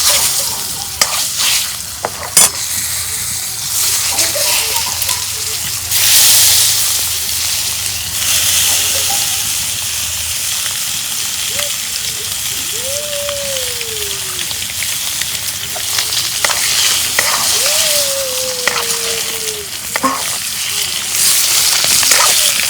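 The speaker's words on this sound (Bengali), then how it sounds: "এখন আমি একটা একটা করে ডিম ভাইজা নেব।" Eggs fry one at a time in a pan with potatoes, dried chilli, turmeric and salt, giving a steady, loud hissing sizzle with a few faint utensil taps and brief voice sounds.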